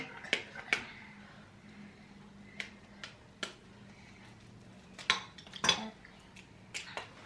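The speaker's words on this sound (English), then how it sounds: "Tyler, remember, you have to hold the egg over what you're going to break it in." Eggshells tapped and cracked over a bowl in a home kitchen as a child makes porridge, with sharp irregular clicks and knocks and clinks of dishware, fairly close and quiet, no talk.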